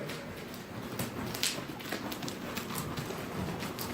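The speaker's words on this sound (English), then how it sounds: "And then pick up your right lead canter." A horse cantering and trotting in an indoor riding arena during a lesson, with soft, fairly steady hoofbeats on the arena footing and low background noise. No one speaks.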